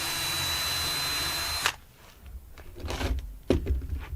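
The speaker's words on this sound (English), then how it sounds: "And we're going to pre-drill here." A power drill pre-drills into wood window framing: the motor whines steadily, then stops with a sharp clunk, followed by a few short handling knocks and rustles nearby.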